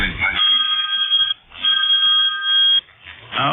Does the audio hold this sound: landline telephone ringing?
yes